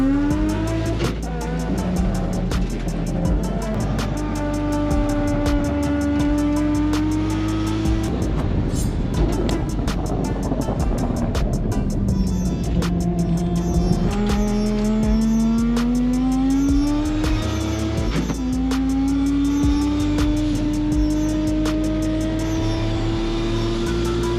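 Race car with a roll cage driving hard around a track, engine loud and close from inside the cabin, revving up and down through gear changes for the whole stretch with no talk.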